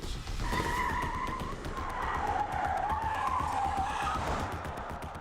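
Tesla electric car with one motor driving the front wheels and one driving the rear, its tyres squealing and skidding in a loud, sustained whine that rises and wavers for several seconds over a steady roar, with no talking.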